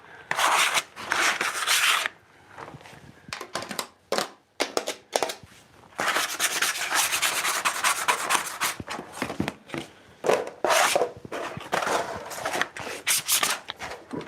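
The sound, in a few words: scraping excess glue off separators with a scraper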